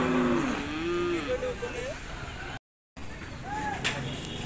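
Cattle at a livestock market, among them a Friesian bull, give several low moos while being led away, amid a busy crowd murmur and nearby talk, with a brief dropout midway.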